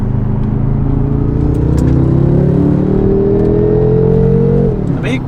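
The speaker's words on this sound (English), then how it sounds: "It's synthetic sound, and it's supposed to replicate the V8 twin turbo inside of the car" A synthetic V8 twin-turbo engine note plays through the speakers of a BMW M5 E60, a loud, close, droning hum that climbs in pitch, holds, then drops sharply near the end.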